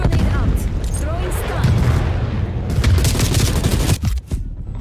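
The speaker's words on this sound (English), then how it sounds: "Throwing grenade. Stun grenade out." A stun grenade thrown and bursting in a military shooter game, heard amid dense, continuous gunfire and booms that cut off sharply near the end, with voices over the din.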